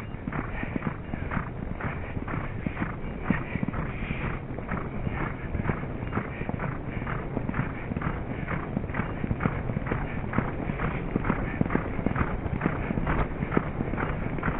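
A racehorse gallops along a track during morning trackwork, its hoofbeats a steady, rapid rhythm of clip-clops that continues for the whole stretch, close and fairly loud.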